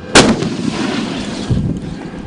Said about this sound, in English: During the evaluation, the soldiers test their skills with the Paladin, a self-propelled artillery piece.